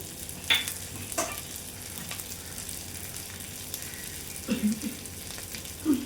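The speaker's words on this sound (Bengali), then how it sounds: "এটি ভালোভাবে নেড়ে চেড়ে নেবো।" Bitter gourd and potato slices stir-fry in a pan, a soft ongoing sizzle broken by several clacking spatula scrapes and stirs, close by and fairly quiet.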